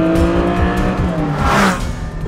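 Porsche 718 Cayman GT4 and 718 Spyder engines revving hard, a loud, continuous rising and falling mechanical wail heard up close with no talking.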